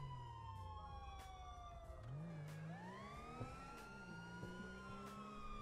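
Police car siren in GTA 5, a wailing tone sweeping up and down continuously while an engine revs underneath, fairly faint and steady throughout.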